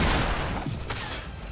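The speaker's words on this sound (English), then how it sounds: "Who's shooting that?" Short fusillade of gunfire in Fortnite, a quick run of muffled shots blending into dense game noise, faint and somewhat distant, lasting only a moment.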